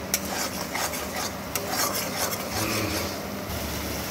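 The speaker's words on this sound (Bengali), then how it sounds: "খুব ভালো করে কষিয়ে এর সঙ্গে মিশিয়ে নেব, যাতে মশলাটা খুব ভালোভাবে কষানো হয়।" Turmeric, cumin and coriander spice mix being sautéed in a pan, with steady scraping and stirring strokes and a faint sizzle running throughout, close and continuous with no talk.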